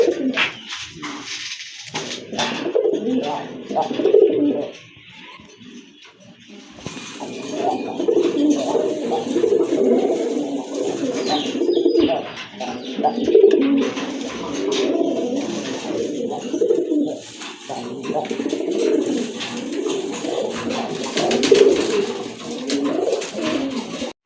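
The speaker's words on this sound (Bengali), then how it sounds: "এর রাজগোল্লার একটা মাদি কবুতর দেখতে পাচ্ছেন" A Rajgolla female pigeon coos in a close, steady series of low, throaty, rolling calls that go on almost without a break, with a few brief lulls between bursts.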